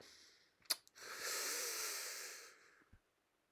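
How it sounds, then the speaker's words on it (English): A hissing, breathy exhale forced through clenched teeth lasts about a second and a half, following a couple of sharp clicks, close and fairly quiet. "Heavy breathing through my teeth."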